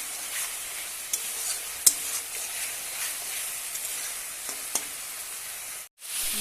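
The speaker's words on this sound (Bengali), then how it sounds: "মশলাটা খুব ভালো করে কষিয়ে নেওয়া হয়ে গেছে" Spice paste sizzling and frying in hot oil in a pan while being stirred for a Bengali jackfruit and catla fish curry, a steady close hiss with occasional scraping clicks and no talking.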